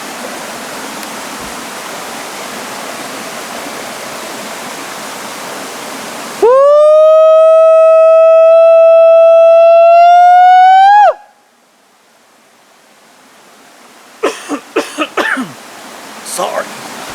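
A man by a river gives a long, loud, sustained wailing Bigfoot-style call lasting several seconds over rushing water, the voice imitating the creature, followed by quieter scattered sounds after the call ends.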